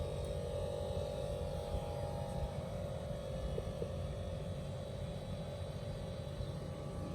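Steady low mechanical hum of a Haier four-way air conditioner running, constant and unchanging, with a faint tonal whine above the drone, similar to a refrigerator.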